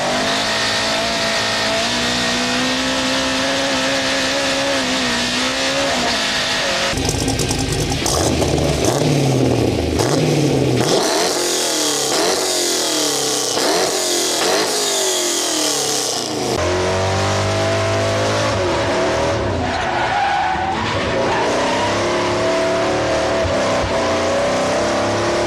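A Land Rover Defender fitted with a swapped LS3 V8 roars through repeated hard revs and acceleration, loud and close, with the pitch climbing and falling across sustained pulls and a possible squeal of tyres.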